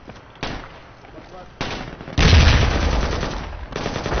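Bursts of machine gun fire in the military shooter game Project Reality, loud and close, coming in several sustained rattling volleys with brief gaps, a voice talking over part of it.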